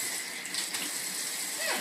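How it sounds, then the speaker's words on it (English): A tap runs water while hands are wetted under it, a close, steady gush and splash that lasts under two seconds. "Let's say I turn the water on and I wet my hands."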